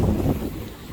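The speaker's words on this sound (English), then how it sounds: "It's not even cold, but the wind's crazy." Strong gusting wind blowing snow around outdoors near a school, a rough, loud rush buffeting the microphone that is heaviest at first and eases slightly over one second.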